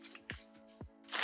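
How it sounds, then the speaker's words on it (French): Salad being tossed and mixed in a bowl in a home kitchen, a few soft rustling swishes and light clatters in quick succession over a faint steady hum, quiet and close. "Désolée pour le bruit, un petit mélange de salade."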